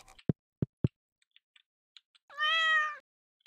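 A cat in the farming video game Stardew Valley gives one clear, drawn-out meow after a few sharp, isolated game clicks. No one talks.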